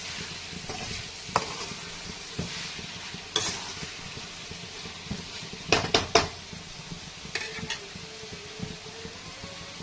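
Onions frying with mutton in a pan, a constant sizzle under repeated metal spoon scrapes and clanks against the pan as the mixture is stirred.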